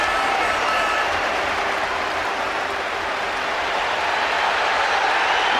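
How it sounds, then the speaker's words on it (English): A huge Highbury crowd at Arsenal's final match there against Wigan in 2006 applauds Dennis Bergkamp with dense, unbroken clapping and cheering that holds loud and steady throughout. "the applause for Dennis Bergkamp has got even more intense"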